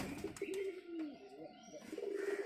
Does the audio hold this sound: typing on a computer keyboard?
no